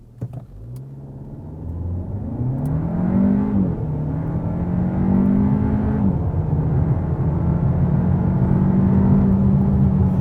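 A 2021 Hyundai Elantra N-Line sedan (i30 Sedan) accelerates hard from 0 to 100 km/h. The engine note climbs through several gears, with a rise and a drop at each shift. It is loud and close, and nobody talks over it.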